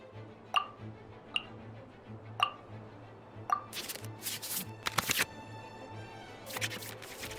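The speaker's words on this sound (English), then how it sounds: "we can select any number of cards in our hand to shuffle back into the draw pile" Cards shuffle in the Genshin Impact card game: four sharp, evenly spaced clicks, then a busier run of swishing card sounds and bright chimes over a steady low game hum.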